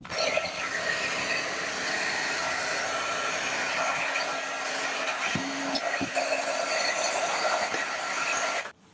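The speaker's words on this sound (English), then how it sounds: "I'm going to use a heat gun to try and remove this burl" Heat gun warming plastic trim on a 1997 Land Cruiser dash, a steady loud blowing whoosh held close and continuous for about nine seconds, with a few faint clicks, cutting off at the end.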